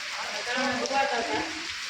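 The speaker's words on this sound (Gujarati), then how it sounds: "જોરદાર વરસાદ ચાલુ થઈ ગયો હે" Steady, dense hiss of heavy unseasonal rain pattering on a surface on a farm, continuous throughout with faint voices murmuring underneath.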